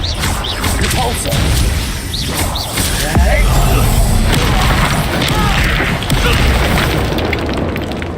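A Repulsor spell blasting during a fight in the video game Hogwarts Legacy, heard as a dense, loud rumbling impact with crashes and whooshing effects that fill the whole stretch, mixed with battle noise and game voices.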